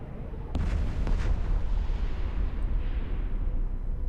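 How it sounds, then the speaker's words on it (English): A deep, rumbling explosion from the space game EVE Online booms loud and close, opening with sharp cracks and then fading into a long, low roar. "let's wait for the explosion"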